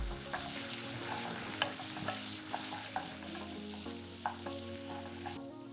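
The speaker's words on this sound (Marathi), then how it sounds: "एक वाटी भरून बारीक चिरेला कांदा घालायचा आहे आणि चांगलंच सोनेरी होईसपर्यंत परतत राहायचं आहे" Finely chopped onion sautéed in a pan until golden: a soft, steady sizzle broken by regular spatula clicks and scrapes against the pan, close and fairly quiet, with a low hum beneath and no speech.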